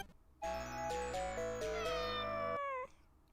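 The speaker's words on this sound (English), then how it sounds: "Yes, cat." A cat meows in a long, drawn-out, wavering call lasting about two seconds, close and clear, in an otherwise quiet indoor room.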